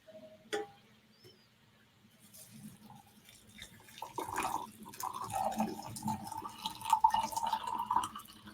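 Hot water poured from a kettle over loose tea leaves, a thin trickling stream that starts quietly, then swells into a louder burbling pour lasting several seconds, close by with no talk over it.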